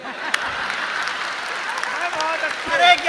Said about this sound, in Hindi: शर्मा मत, ताली बजा।